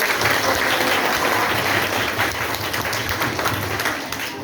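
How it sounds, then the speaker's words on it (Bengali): Students at a school annual exam result ceremony break into steady, dense applause, a full room of clapping that continues evenly throughout. "সবাই আমরা একটু করতালি দিয়ে অভিনন্দন"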